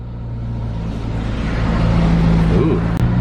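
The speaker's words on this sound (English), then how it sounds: "we're in the wash and this arm is gonna go all the way around the car" Inside an automatic car wash around a McLaren 600LT, the moving wash arm gives a swelling mechanical whir over a steady low hum, close and fairly loud, building as it sweeps around the car.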